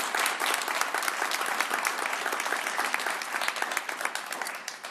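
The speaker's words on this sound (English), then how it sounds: "now you can applaud for the future of the world" Crowd applauding at a climate policy press conference held by Governor Jay Inslee at WSU, a steady patter of many hands clapping, moderately loud and continuous before tapering slightly.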